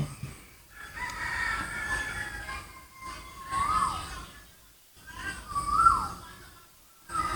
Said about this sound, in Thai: เสียงนกเสียงไก่เต็มไปหมด